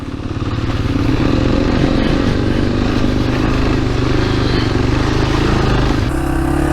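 Yamaha TW200 motorcycle ridden through wet sand, its engine a loud, close, continuous throbbing drone that holds steady under throttle before easing off near the end.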